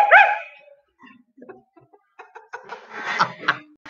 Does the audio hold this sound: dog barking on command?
yes